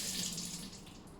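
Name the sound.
water poured to soak a knife sharpening stone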